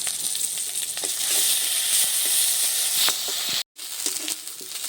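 Ginger-garlic paste frying in hot oil with onions, a steady loud sizzle with bright hiss and small stirring clicks, broken by one brief dropout near the end.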